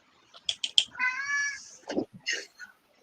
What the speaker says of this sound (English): One of my cats decided to come in and cry at me.